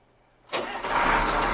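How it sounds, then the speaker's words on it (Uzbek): A SEM 956F three-cubic-metre wheel loader's engine starts after a short quiet moment, catching with a burst, then settling into a loud, steady diesel idle nearby. "bitta yoqaylikchi ovozini eshitaylikchi"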